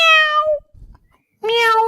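A person imitates a cat, giving two drawn-out meows separated by a short pause, loud and close.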